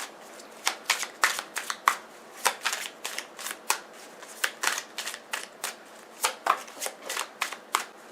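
Tarot cards being shuffled by hand, close and crisp, in rapid bursts of riffling flicks repeating steadily with brief pauses between.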